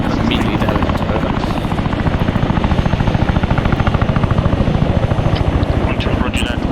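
A helicopter in the ArmA 3 video game thumps close and loud with a steady, fast rotor chop, while a voice talks over it.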